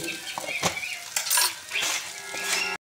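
A spoon stirs salt into sabudana khichdi in a pan, making repeated scraping and rubbing strokes against the metal over a light sizzle, close and fairly loud.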